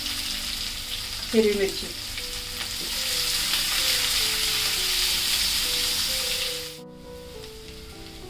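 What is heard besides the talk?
onion, hing and green chili frying in a pan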